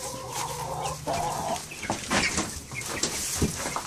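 Hens and young chicks cluck at close range, with steady low clucks early on giving way to overlapping bursts of peeping and clucking from the flock at feeding time.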